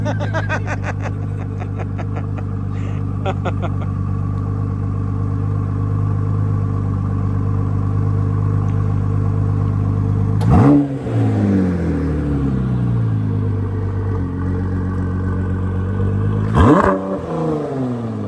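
A car engine not yet fully warmed up holds a low, steady rumble at idle, then gives two sharp, loud revs that swell and fall away, heard up close with no talk.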